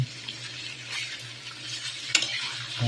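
Stirring adobo in a cooking pan with a utensil: soft scraping and clinking strokes over a faint steady sizzle, close by, with no talk.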